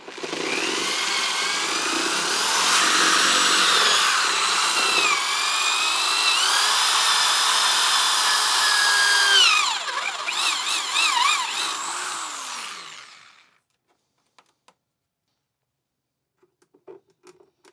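A step drill bit bores a hole with a loud, steady high-pitched whine that shifts in pitch as it cuts, then winds down and stops, leaving near silence with a few faint clicks.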